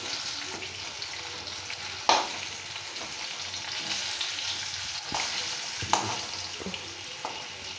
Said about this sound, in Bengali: এখানে আলুটা আমি ভালো করে ভেজে নেব।